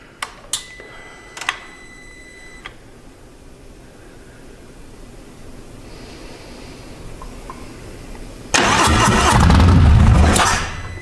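A Harley motorcycle engine with its fuel pump disconnected starts with a few sharp clicks, idles faintly for several seconds, then bursts into a loud, rough roar near the end before fading as it dies from fuel starvation.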